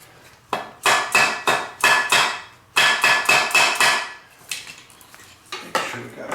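Repeated sharp hammer blows on a metal ring, struck in quick rhythmic bursts of about four to six hits with short pauses between, close and loud with a ringing metallic edge.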